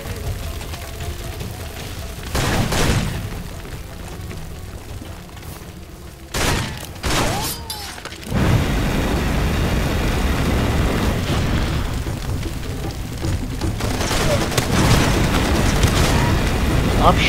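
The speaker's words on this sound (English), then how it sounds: "Stop shooting me!" Gunfire and explosions in the video game Far Cry 2: heavy booms and bursts of shots, then a dense sustained barrage of fire, loud and close, with a voice occasionally talking over it.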